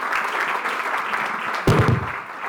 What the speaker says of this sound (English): Let's give a really big loud applause.